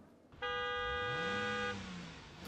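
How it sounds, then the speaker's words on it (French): A car horn blasts once at an auto motor show, a loud sustained honk of a bit over a second with a steady harmonic tone, followed by a low rumble and room noise. "Terminons avec justement le coup de klaxon. Vous venez de l'entendre, Thierry de la rédaction"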